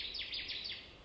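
Birds singing on territory in a boreal forest on sandy soil, a faint, distant series of four quick repeated high chirps, alone in quiet surroundings.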